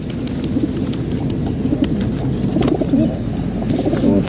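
Pigeons cooing close by, repeated soft throaty coos overlapping in a steady run over a low background hum.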